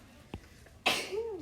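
A single sharp sneeze bursts out near the end of a quiet precalculus lecture, loud and close, followed by a brief voice.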